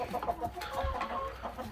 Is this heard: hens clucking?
yes